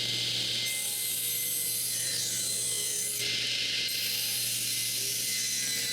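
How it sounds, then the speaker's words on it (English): A table saw rips pieces of wood for a snowshoe rack, giving a loud, continuous high-pitched hiss and whine that holds steady throughout, with a slight change in tone partway through and no talking. "it's time to go to the table saw."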